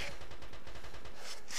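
Rapid bursts of gunfire in a realistic war video game, a steady rattling stream of shots heard close and loud throughout, with no voices over it.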